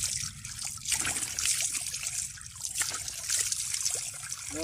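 Steady water trickling and splashing close by from a well, a continuous gurgling flow with no one speaking.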